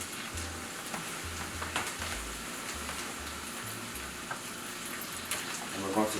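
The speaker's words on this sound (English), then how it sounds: "So we're going to drizzle our Worcestershire." Worcestershire sauce and red wine sizzling on vegetables cooking in a pan, a steady crackling hiss at moderate level with low rhythmic thumps underneath.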